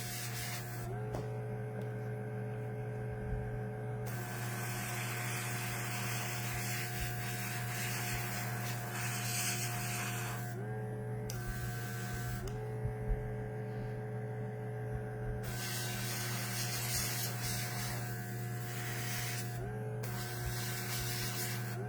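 An airbrush sprays paint onto a HeroQuest Warlock miniature, a steady hissing air flow that keeps running through the whole stretch. A constant low mains-like hum sits underneath, and brief pauses and shifts in the spray fall near the middle and the end.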